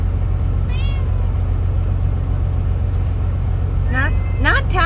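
A cat meows in short, rising calls, once early and then in a quicker cluster near the end, over a constant low engine-like rumble.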